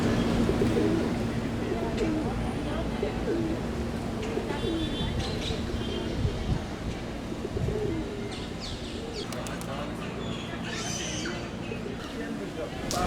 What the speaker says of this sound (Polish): miejscowe ptaki śpiewają sobie